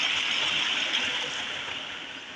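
Water pours from a solar-powered tube well in a steady, even rushing flow that holds for a couple of seconds and fades slightly toward the end, with no voices over it.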